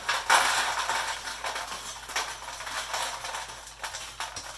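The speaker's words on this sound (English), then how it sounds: "I'll just kind of use the spatula to help get them off of this tray." A spatula scraping hot spiced pecans off a baking tray, with repeated short metallic scrapes and light clatter of nuts, close and fairly quiet, no talk.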